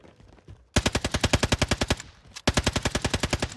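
Automatic gunfire in the video game Call of Duty: Warzone comes as two loud, rapid bursts of evenly spaced shots, separated by a brief pause. Quieter game noise sits underneath at the start.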